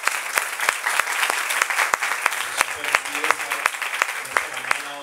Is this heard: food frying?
no